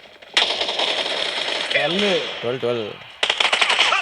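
Rapid automatic gunfire from a mobile shooter game played on an iQOO Neo 7 phone, dense bursts running almost throughout with a brief pause, under excited Tamil talk from a player.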